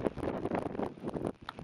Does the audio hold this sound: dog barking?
no